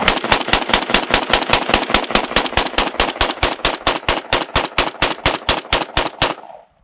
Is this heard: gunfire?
yes